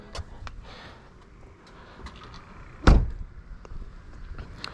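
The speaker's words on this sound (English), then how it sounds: "pull our hood latch twice" Hood latch of a BMW G80 M3 pulled, then the hood released: faint clicks and rustles lead to a single sharp, heavy thunk that decays quickly, with no voices.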